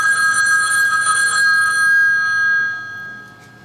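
A telephone bell rings steadily in a continuous electronic trill, loud and close, fading gradually over the last second with no voices.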